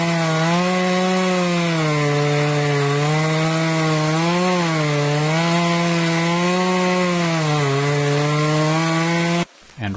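A hand saw cuts through a standing tree being felled by hand in the woods at a remote cabin site, its long droning strokes rising and falling in a steady rhythm, loud and close, then cutting off abruptly near the end.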